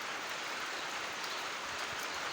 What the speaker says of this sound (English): as you can see, the rain's teeming in.